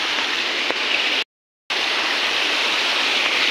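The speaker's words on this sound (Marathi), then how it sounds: "या ठिकाणी मस्त एक छोटंसं धबधबा" Heavy rainwater rushes over a small waterfall in a Konkan village near Malvan, Sindhudurg, a loud and steady roar up close, cut off by a brief moment of silence before the flow resumes.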